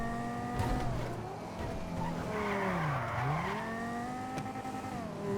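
A rear-wheel-drive muscle car in GTA V revs hard while its tires squeal and skid, the engine pitch dipping and climbing again in one continuous, loud, close stretch.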